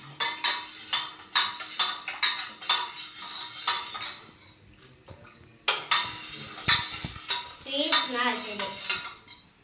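A utensil mixes kokum popsicle mixture with sugar in a metal vessel, giving rapid, rhythmic clinks and scrapes in bursts, close and clear, with a brief pause midway and a faint voice near the end.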